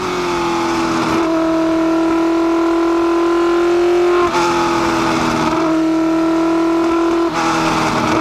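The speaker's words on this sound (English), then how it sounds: "driving around having a look at this amazing track at the historic Silverstone circuit in a car, the four-wheel drive McLaren M9A" A four-wheel drive McLaren M9A race car driving at the historic Silverstone circuit, its engine a loud, steady high-pitched drone that rises and falls through several gear changes.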